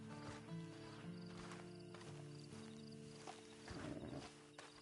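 Horse in the Red Dead Redemption video game, clip-clopping hooves and a brief whinny-like snort heard over steady game music and ambient hum, moderately near.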